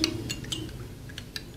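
A spoon stirs ginger and cumin in a cup, producing a few light clinks against the sides spread over a short span, quiet and close with no talking.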